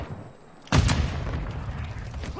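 Gunfire in the Warzone video game: a sudden loud shot or blast after a quiet moment, followed by a sustained rumbling echo and scattered follow-up reports, with no talking.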